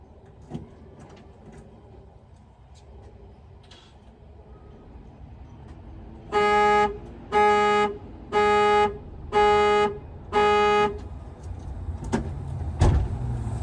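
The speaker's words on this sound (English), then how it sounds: "we can have a listen to the stock horn" Five evenly spaced blasts from a Ford Escort's stock alarm horn, each about half a second, with a flat buzzy tone, sounding close over a low background hum.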